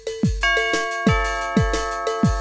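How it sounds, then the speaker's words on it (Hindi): A two-tone electronic chime rings repeatedly, bright bell-like notes cascading in a quick ding-dong pattern, clear and close. "दरवाजे की घंटी फिर से बजी।"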